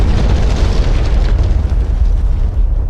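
A radar tower blows up after a strike in DCS World, a loud, continuous, roaring explosion with crackling debris that fades slowly over a few seconds.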